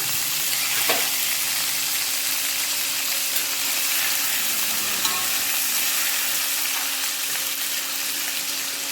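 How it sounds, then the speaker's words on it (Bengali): Vegetable stalks and potatoes fry in a pan with black cumin seeds, a steady close sizzle throughout with faint stirring scrapes and no talking. "এগুলোকে এখন একটু ভেজে নেব।"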